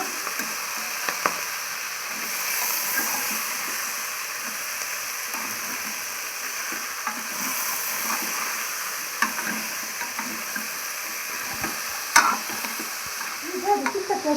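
Chopped vegetables fry in a pan for bele sambar, a steady soft sizzle with occasional stirring scrapes and clicks running throughout, fairly quiet and close.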